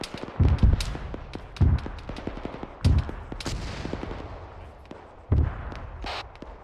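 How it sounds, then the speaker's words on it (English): Gunfire in the military simulation game ArmA 3: several heavy, booming shots spaced a second or more apart, with quieter distant cracks and rumbling echoes in between, loud and close. "Taking fire."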